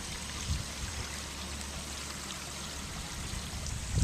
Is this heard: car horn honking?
no